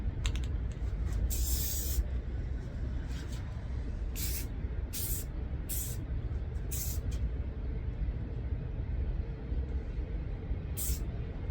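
White matte spray paint hisses from an aerosol can onto a tumbler in a series of short, loud, close bursts, some brief and some held for about a second, with a low steady background hum between them.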